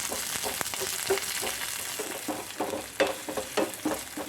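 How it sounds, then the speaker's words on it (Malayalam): Shallots, coconut and green chillies sizzle as they are sauteed in a pan, a close, steady crackle broken by irregular stirring scrapes. "ഇനി ഇതെല്ലാം കൂടെ നന്നായിട്ടൊന്ന് വഴറ്റി കൊടുക്കാം"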